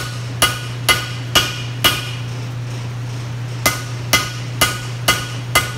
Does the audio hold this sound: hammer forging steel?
yes